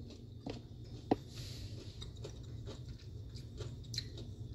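Someone chews crunchy, half-cooked broccoli close to the mic, making faint, irregular crunching and munching with one sharper crunch partway through.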